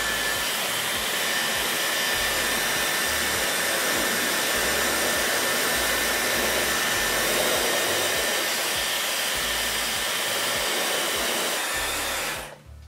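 A Dyson hair dryer blows steadily on a lace wig, a loud constant whoosh with no talk, running unbroken for about twelve seconds before cutting off.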